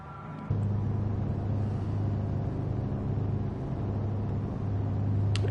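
Race cars in GT Sport at Suzuka idling on the grid before the formation lap: a steady low engine rumble and drone that swells in at the start and continues evenly throughout, with no talk.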